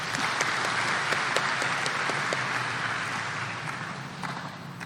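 An audience at a university welcome event applauds: dense, steady clapping from a large crowd that fills the whole clip and fades slightly toward the end.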